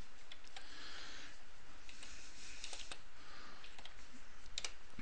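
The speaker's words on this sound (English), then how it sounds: "So we're going to type make space mrproper." Keys click lightly and unevenly on a computer keyboard as a Linux terminal command is typed, in short bursts of taps over a quiet background hum.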